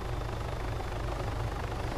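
A helicopter in the video game Arma 3 drones steadily with a low, continuous rotor and engine hum, fairly quiet and heard alone without any speech.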